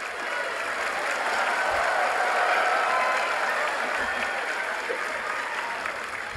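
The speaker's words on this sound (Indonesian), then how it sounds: "Tepuk tangan untuk Pak Anies. Agak kenceng nih tepuk tangannya nih." An audience at a mayors' forum in Makassar applauds in a steady, dense wash of clapping that holds at an even level for the whole stretch, with no voices on top.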